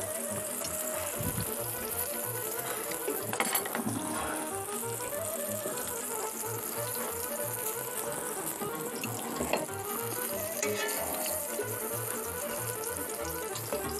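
Food fries in a pan with a continuous crackling sizzle, fairly close and steady, over a dense wash of kitchen noise and no talking.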